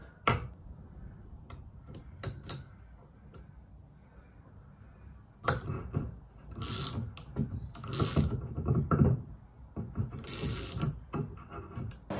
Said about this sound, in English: So I've got this little three-legged remover here.